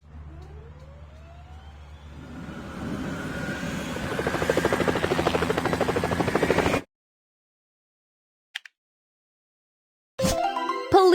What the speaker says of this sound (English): Firefighting helicopter.